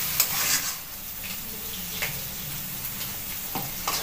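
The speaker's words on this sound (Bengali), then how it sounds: "মশলাটা নেড়ে নেব।" A spatula stirs spice masala with chopped tomato in a frying pan for a prawn dish, soft scraping strokes over a low, steady sizzle, close and fairly quiet.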